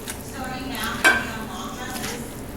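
Dirty rice is stirred in a pan with a soft, even rustle and faint sizzle, plus one brief utensil clink midway; fairly quiet with no clear talk.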